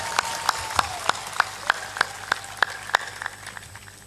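Audience at a satsang clapping in a steady, evenly spaced rhythm, about a dozen crisp claps in unison, fairly close and gradually softening toward the end.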